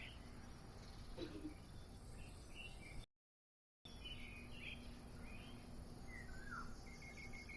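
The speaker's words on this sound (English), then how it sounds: "Here's some birds." Birds outside the aircraft in Microsoft Flight Simulator 2024 give scattered, faint chirps over a constant insect-like drone and low hum, with a short silent gap in the middle.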